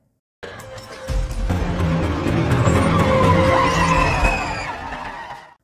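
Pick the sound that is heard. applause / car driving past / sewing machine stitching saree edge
car driving past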